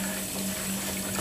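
Tap water runs steadily into a sink for rinsing hands while mixing homemade Italian sausage, a constant rushing hiss with a faint hum beneath.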